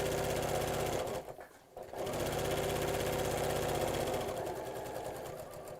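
A sewing machine stitching straight across the teeth of a nylon zip on a cushion cover, a close rapid whirring drone that pauses briefly near the start and then runs steadily again.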